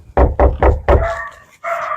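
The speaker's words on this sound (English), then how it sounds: "Oh, the dogs are barking." Dogs barking nearby in a quick run of four loud, sharp barks, followed by a more drawn-out whining yelp.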